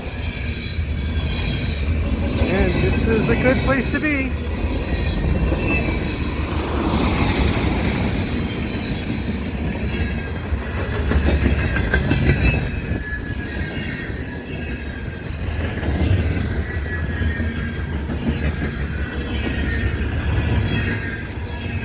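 A CN freight train carrying stacked containers and mixed cargo rumbles past in winter with continuous clattering wheels and occasional squeals, steady and fairly loud throughout; someone speaks briefly over it.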